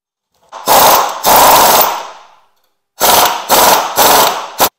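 An impact wrench tightens a Shovelhead motorcycle's clutch hub nut in five loud, close, hammering bursts: two longer rattling runs, then a pause, then three shorter blasts.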